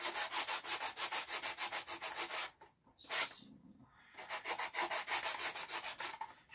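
Hand sanding of wood, done the way a knife is sharpened, with regular rasping back-and-forth strokes close up. One brief pause breaks the strokes before the even rhythm returns.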